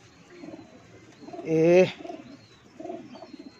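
A golden pigeon among show birds gives a brief loud, close coo mid-clip, with softer cooing around it and someone speaking briefly nearby.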